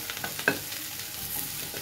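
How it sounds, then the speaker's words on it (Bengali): Boiled potatoes fry in butter and garlic in a pan with a soft continuous sizzle, and a single sharper scrape of stirring sounds near the start. "দেখুন আলুটাও খুব সুন্দরভাবে ভাজা হয়ে গেছে।"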